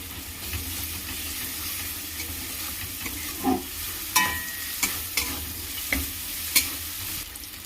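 Ginger and cumin paste frying in a pan, a soft sizzle broken by a spoon scraping and tapping against the pan several times, close and fairly quiet with no talking.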